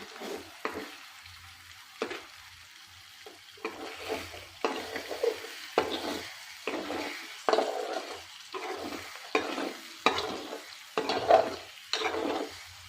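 Egg fried rice is stirred slowly in a pan over a low flame: a spatula makes repeated scraping strokes at an unhurried rhythm above a steady, soft sizzle. It is close and clear, with no talking.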